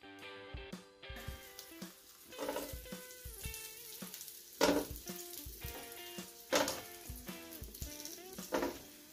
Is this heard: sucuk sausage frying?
yes